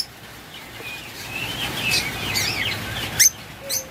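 Caged pet birds such as lovebirds, budgerigars, Java sparrows, cockatiels and finches chirp and tweet in overlapping bright calls, with a sharper burst of calls near the end and a faint steady room hum underneath.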